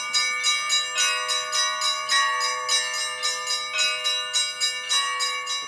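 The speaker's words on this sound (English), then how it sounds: "Visit a church, hear the church bells ringing." Church bells peal in Antarctica inside a sturdy hilltop church, a loud, steady run of overlapping ringing strikes with bright, lingering metallic tones and no voices.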